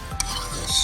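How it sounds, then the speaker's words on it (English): A spoon stirs pinto beans with Lawry's seasoning and cayenne in a cooking pot on a PK grill: short scraping and rubbing strokes over a low simmer, one sharp tap of metal on the pot, close and brief. "Stir that all in"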